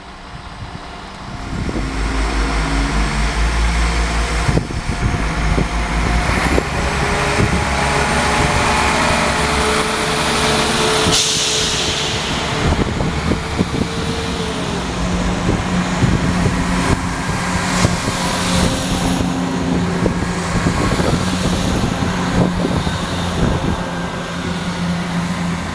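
A pair of Class 67 diesel locomotives working together at Banbury station, a loud, sustained engine drone and rumble with steady low throb holding for the whole stretch.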